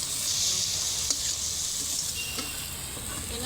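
Whole chillies sizzling steadily in hot oil in a pan while spice pastes go in for a rohu fish head curry, a loud continuous frying hiss with faint stirring knocks throughout.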